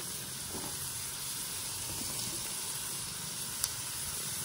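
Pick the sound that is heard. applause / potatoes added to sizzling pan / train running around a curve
potatoes added to sizzling pan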